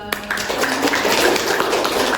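A loud, dense burst of clapping from an audience at a university teaching session, steady and continuous throughout with no voices over it.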